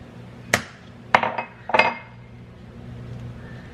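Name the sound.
cracking eggs into a separate bowl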